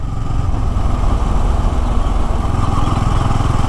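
A Bajaj Pulsar N250 motorcycle engine runs at 40 km/h in fourth gear, a steady, loud, close low thrum with a slightly rough pulsing beat and no talk.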